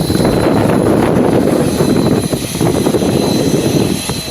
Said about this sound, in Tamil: தேசிய பேரிடர் மீட்புக் குழுவினரும் இந்திய விமானப்படை ஹெலிகாப்டர்களும் களமிறக்கப்பட்டுள்ளன.